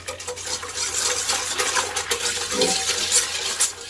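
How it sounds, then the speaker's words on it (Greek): Cake batter mixed with sugar and dry yeast, stirred in a bowl: a continuous wet, swishing scrape with small clinks, steady and close for a few seconds, with no talking. "ανακατεύουμε"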